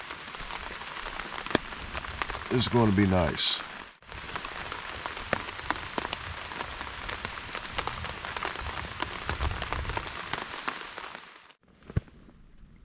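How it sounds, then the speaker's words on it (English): Rain patters steadily on a tarp shelter during an overnight camp in thunderstorms on the Appalachian Trail, with scattered louder drops striking close by; a person speaks briefly and there is some rustling. "Just crawling in and it's starting to rain."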